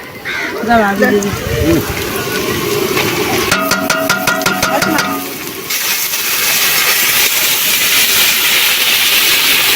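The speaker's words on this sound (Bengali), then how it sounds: "এবারে আদা রসুন দিয়ে দিচ্ছি" Ginger, garlic and chopped onion hit hot mustard oil and set off a loud, steady hissing sizzle that fills the second half. A voice talks early on, followed by a brief rattling clatter.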